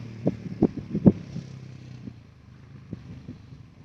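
A Honda 450 motorcycle rides up and arrives, with a few sharp revving bursts early on, then a lower, fading idle rumble with scattered knocks, heard from a moderate distance with no talk.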